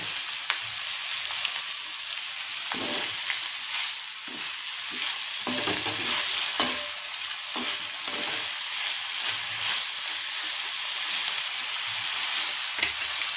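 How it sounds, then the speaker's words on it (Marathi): Salted onion browning in a pan, a loud steady sizzle and hiss with frequent irregular scrapes and clinks of a spoon stirring, close and uninterrupted for several seconds. "खोबरं भाजूया आपण, तोपर्यंत कांदा छान होऊ दे।"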